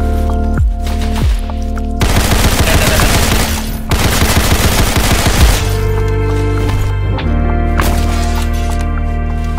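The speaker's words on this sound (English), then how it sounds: "Machine gun." Automatic weapon fire in a third-person shooter video game: loud close bursts of rapid machine gun shots in long sustained volleys, broken by brief pauses and single heavy reports.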